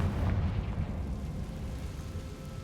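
A Confringo spell explosion in Hogwarts Legacy bursts as a loud, deep rumbling blast that fills the moment and then rolls on as a sustained low roar.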